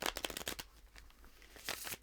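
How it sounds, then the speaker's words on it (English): A quick shuffle of cards, with rapid riffling bursts at the start, a lull, then another brief flurry, close and fairly soft with no talking. "Just give this a quick shuffle."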